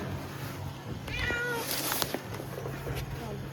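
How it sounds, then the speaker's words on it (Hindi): A cat meows a couple of times, thin and wavering, over steady road and vehicle rumble while being carried to another vehicle. "तो अब हम बिल्ली को लेकर के जा रहे हैं गाइस"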